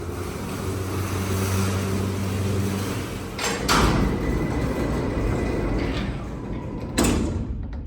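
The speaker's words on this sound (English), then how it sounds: "And I'll close the door like a gentleman." A 2015 Schindler/MEI freight elevator door at King of Prussia Mall closes over a constant mechanical hum, with a sharp close-up clunk partway through and a second bang near the end.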